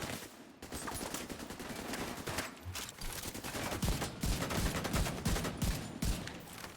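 Sustained gunfire from The Division 2, a dense run of rapid shots, loud and close, with bursts and volleys layered over a busy combat soundscape and no talking.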